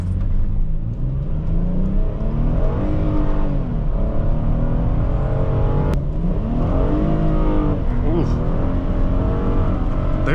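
A 2012 Hyundai Santa Fe Limited with a V6 engine pulls hard from inside the cabin, a loud steady engine drone rising and falling in pitch through gear changes, with a voice talking over it.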